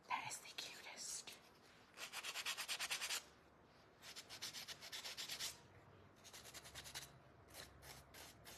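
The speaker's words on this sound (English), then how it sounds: "Just gonna add a little sanding to our little ladybug dots" Sandpaper rubs the painted dots on a craft ladybug in short scratchy bursts, several passes separated by brief pauses, close up and fairly quiet.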